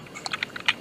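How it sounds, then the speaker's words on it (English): Light typing on a computer keyboard, a few quick, faint key clicks heard close up over a soft background hiss, lasting under a second. "So let us type"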